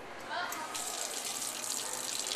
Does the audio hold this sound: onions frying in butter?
no